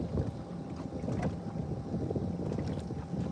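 Wind blowing over Lake Kissimmee from a crappie-fishing boat: a steady, close rumble that buffets the microphone, with gusting texture throughout and no pauses.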